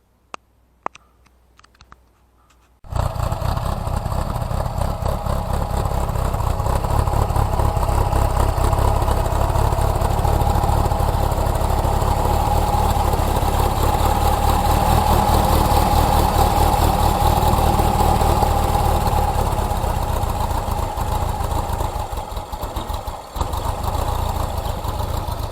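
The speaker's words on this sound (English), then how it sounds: "We'll go for a ride in the bug as soon as I get it going." A VW beach buggy engine clicks a few times, then starts and runs with a loud, steady, rough idle and mechanical clatter that continues close by with little change until the end.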